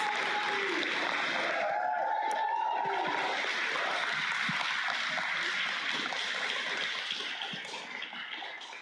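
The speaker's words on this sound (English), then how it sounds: "Look at that applause." An audience at a TIFF event applauds director S.S. Rajamouli, a dense wash of clapping that stays steady, then thins and fades toward the end.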